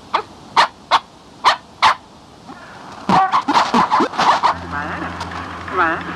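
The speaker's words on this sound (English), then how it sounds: "The only company he keeps is his beloved dog, Hot Dog." A dog barks sharply, voicing characters in the video game Uurnog Uurnlimited: five evenly spaced barks ring out, then a denser run of quick yips and barks, close and clear.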